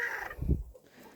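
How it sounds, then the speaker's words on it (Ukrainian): A brief, low, throaty cluck from a broody hen sitting on eggs, close by and fairly quiet, with little else around it. "То квочка сидить з одного боку на яйцях мішаних курей"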